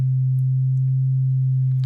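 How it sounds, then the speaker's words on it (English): A simple sine wave tone from an FM synth, snappy through a low pass filter with a short amp envelope, holding one steady, loud low pitch alone for the whole stretch. "Just a little sine wave, right?"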